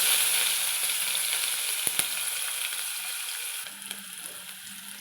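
Onions frying in oil in a pan with tempering spices, a continuous bright sizzle that slowly eases, with a few sharp ticks and faint clinks scattered through, no talking.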